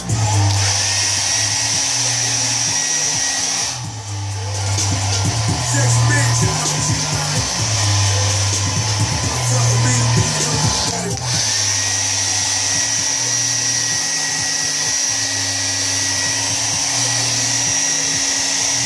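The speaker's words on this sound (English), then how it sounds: "just gonna be a real quick blow dry" A hair dryer runs steadily with a constant high whine and low hum, briefly dipping in pitch partway through before resuming at full strength.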